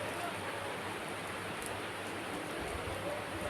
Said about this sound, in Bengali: কি বৃষ্টিটা হচ্ছে দেখো তোমরা।